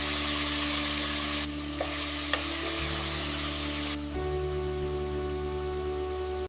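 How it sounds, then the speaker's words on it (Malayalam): Masala-marinated chicken sizzling in a pressure cooker after ginger-garlic paste and leaves are sautéed, a loud continuous frying hiss with a couple of small clinks from stirring, no talk. "മസാല ചേർത്ത് വെച്ച ചിക്കൻ കുക്കറിലേക്ക് ഇടാം"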